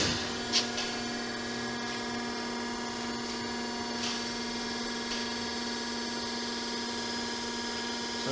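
Cincinnati Milacron centerless grinder on 460 volt three-phase power running, a steady electrical hum with a constant tonal whine, faint ticking and a couple of brief clicks near the start and middle.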